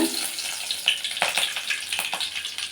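Mustard seeds and curry leaves frying in hot sesame oil, a steady close sizzle with scattered sharp crackles and pops from the seeds, no talking.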